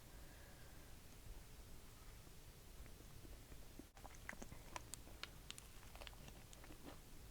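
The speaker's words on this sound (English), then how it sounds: "Sorry if my chewing is really annoying. It's just, I'm a loud chewer, okay?" Close, crunchy chewing of food by a self-described loud chewer, with sharp bite and crunch clicks growing denser in the second half over a steady low background hiss.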